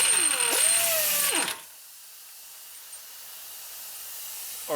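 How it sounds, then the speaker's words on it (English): A power tool undoes the front drive axle nut on a Toyota Highlander with a loud, whirring, hissing burst of about a second and a half. Near silence follows. "So now I'm gonna undo this drive axle nut."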